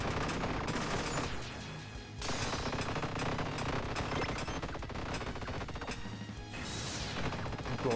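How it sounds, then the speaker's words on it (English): Rapid automatic gunfire from a video game, a dense continuous burst of shots and crashing impacts that fills the whole stretch at steady loudness, with brief dips and a rising whoosh near the end. "That is so much fast firing"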